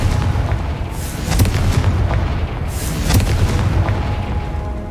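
Confringo fire-blast spell in a Harry Potter video game, heard as a series of deep booming bursts and cracking impacts, loud and continuous, with rumbling blasts recurring throughout.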